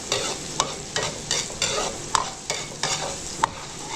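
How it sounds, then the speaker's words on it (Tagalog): Garlic and onion sautéing for pancit, with a steady sizzle of oil under regular scraping strokes of a spatula in the pan, about ten stirs spaced through the stretch, close and fairly loud. "higisa ko lang yung sahog natin"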